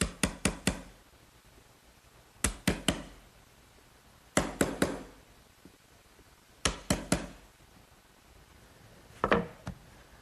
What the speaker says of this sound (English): Now I'll just square off the corner that the router couldn't get to using a nice sharp chisel.